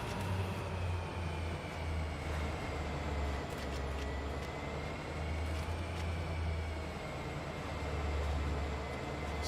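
Train engine throttling up in a train driving simulator game, a steady, continuous low diesel rumble with a faint high whine, droning evenly throughout without speech.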